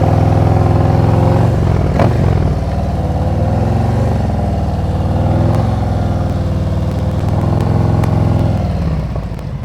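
Motorcycle pulling away on a hill, the engine held under steady throttle preload while the clutch is slowly released, a loud close rumble that holds fairly even for several seconds before easing off slightly.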